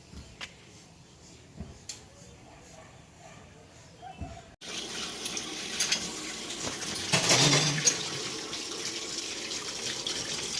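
Running tap water splashes into a sink as dishes are washed, a steady hiss that swells louder in the second half after a quieter start with faint clinks.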